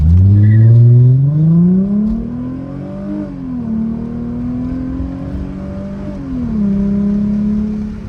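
A Chrysler Crossfire's engine revs hard from a brake-torqued standstill, climbing steeply in pitch, shifting gears twice, and pulling loudly and continuously throughout a 0-60 run.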